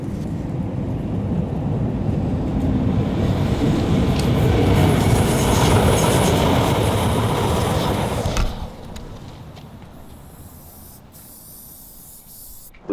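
A metro train rumbles past close by, a loud, steady roar with a broadband hiss that lasts about eight seconds and then drops off sharply to quieter background noise.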